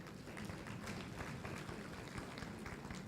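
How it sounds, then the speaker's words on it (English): Audience at a renewable energy conference applauding drummers from Burundi, a sustained bed of many hands clapping at a steady level with dense overlapping claps. "Let's clap for the drums as they're coming."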